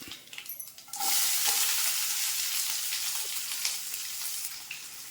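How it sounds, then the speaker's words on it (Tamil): Chana dal and onion hit hot oil in a pan with spluttered mustard seeds, as a ridge gourd stir-fry begins: quiet stirring, then a sudden loud, close sizzle that stays strong and steady. "கடலப்பருப்பு போட்டு அதையும் வதக்கி விட்டுட்டு இப்போ வெங்காயம்"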